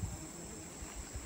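Dense insect buzzing of bees swarming in a tropical forest, a steady close drone filling the whole moment with slight swells and no talk.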